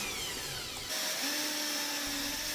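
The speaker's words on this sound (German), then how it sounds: "kann jetzt die Revisionsplatte mit einem kleinen Bohrer in die Seitenteile des Absaugkastens vorbohren" A small drill bit bores pilot holes into the side panels of a dust-extraction box for a Bosch GTS 10 XC router fence, a steady high whine running close and continuous after a brief quieter start.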